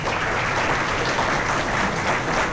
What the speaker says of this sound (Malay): Sila beri tepukan.